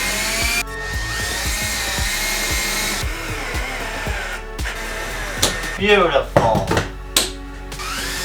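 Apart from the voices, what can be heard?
power drill driving into wood in skoolie kitchen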